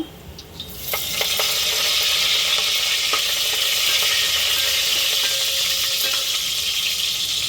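Curry leaves dropped into hot oil with roasted garlic, bursting into a loud, steady frying sizzle after a quieter start, continuing evenly throughout.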